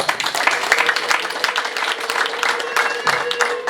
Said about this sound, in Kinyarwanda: Reka uyu musaza tumuha amashyi.